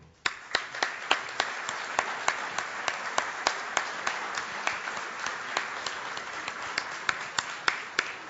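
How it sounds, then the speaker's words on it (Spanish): Audience applause at a business marketing conference, a moderate crowd clapping with a few sharp, prominent claps recurring in a steady rhythm over a softer background. "al ingeniero Kramerman, para recibirlo con un fuerte aplauso como corresponde"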